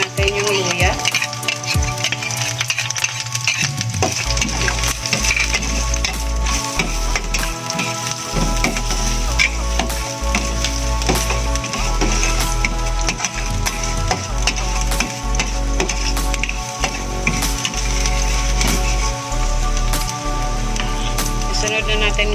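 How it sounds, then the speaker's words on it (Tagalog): Onion and ginger sauté in hot oil in a pan for ginataang papaya with chicken, giving a constant sizzle broken by repeated scraping and clattering stirs, loud and close. "Igisa na natin yung sibuyas at saka yung luya sa manok."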